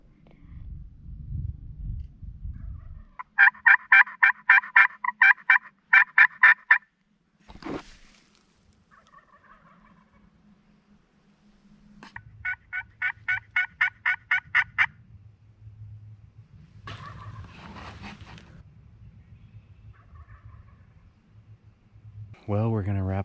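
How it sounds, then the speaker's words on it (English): Two bursts of rapid, rattling wild turkey gobbles at a distance at roost in the evening, separated by quiet stretches, with soft low voices murmuring in between. "there's for sure turkeys in here. We saw the hen right over here and just heard some gobbles"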